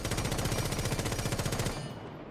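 Rapid automatic gunfire from a rifle fitted with a compensator in Rainbow Six Siege, a fast, evenly spaced burst of close, loud shots that stops abruptly near the end.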